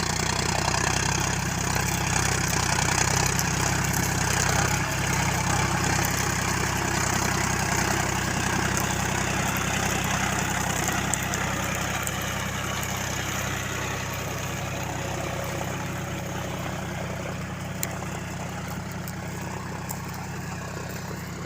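A John Deere 5050D tractor pulls a plough through a field, its engine holding a steady, loud diesel drone throughout with no talking.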